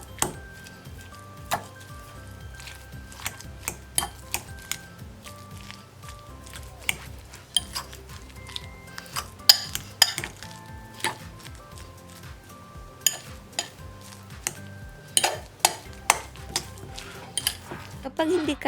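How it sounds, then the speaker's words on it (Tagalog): Boiled potatoes in a bowl being mashed with a fork, a string of light clinks and taps of metal against the bowl in an irregular rhythm, faint and close, with quiet room noise. "Kapag ito'y malambot na, ilagay ito sa bowl at i-smash na."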